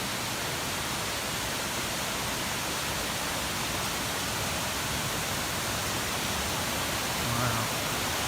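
Waterfall in a lush green Irish national park, a steady loud broadband roar of falling water filling the whole stretch without a break.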